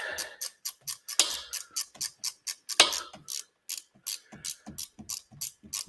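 A ratchet wrench loosens a bolt during a motor teardown with a steady run of rapid, crisp mechanical clicks, close up and alone, with a few slightly louder strokes along the way.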